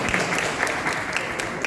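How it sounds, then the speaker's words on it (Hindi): Audience applause at the Lalit Kala Akademi 67th foundation day event in 2021, a steady indoor wash of many hands clapping continuously throughout, fairly close and even in loudness. "उसके लिए भी ताली बजा के आपको"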